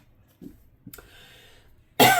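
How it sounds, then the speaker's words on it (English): A person coughs a few times, soft throat sounds building to one sharp, loud cough at the end, close by. "I don't ever cough during these readings, hardly ever."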